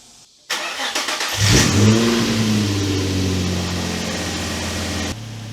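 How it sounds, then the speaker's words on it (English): A drift car's engine cranks and catches, then revs up loudly and settles into a steady, fairly loud running hum. No voices are heard. "We've also got to start the car."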